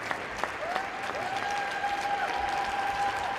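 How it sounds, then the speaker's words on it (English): Gymnastics crowd and fellow gymnasts applauding warmly at a World Cup finals in Cairo, steady dense clapping with a faint tone sounding in the background. "He's hugely respected, you can hear that in the reaction from the crowd and his fellow gymnasts."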